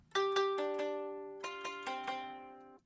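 An equalized guitar plays a few quick plucked notes, pauses, then another short group, each note decaying smoothly; quiet and alone.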